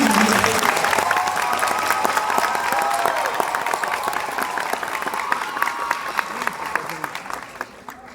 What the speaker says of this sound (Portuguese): Eu peço, por favor, uma salva de palmas para a nossa comissão